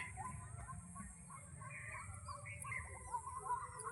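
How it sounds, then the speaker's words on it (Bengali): An unidentified bird gives repeated raspy "kor kor" calls outdoors among trees in a breezy spot near a pond, faint and a little distant over a low wind rumble. "কি পাখিকে জানে কর কর করে কেমন ডাকছে"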